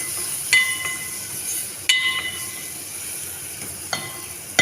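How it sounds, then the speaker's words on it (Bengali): A pan of tomato and spice masala cooks down for an egg liver curry, giving a steady low sizzle with a few sharp clinks of a spoon against the pan spaced through it. "টমেটোকেও সুন্দর করে একটু কষিয়ে নিচ্ছি"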